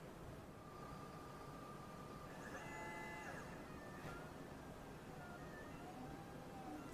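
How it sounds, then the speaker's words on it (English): A LulzBot TAZ 6 3D printer starts to print, giving faint stepper-motor whines that rise and fall over a steady fan hiss, heard quietly and alone. "it will start 3D printing"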